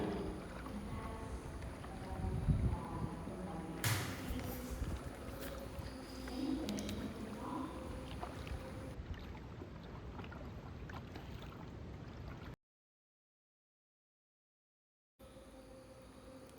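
A boat glides along the Umngot River at Shnongpdeng, with soft continuous water and wind noise at low level, a few faint knocks and splashes, then a brief gap of silence.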